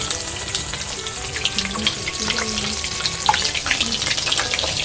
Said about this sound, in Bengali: আমি এইভাবেই সমস্তগুলো ভেজে নেব।